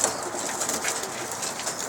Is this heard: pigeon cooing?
yes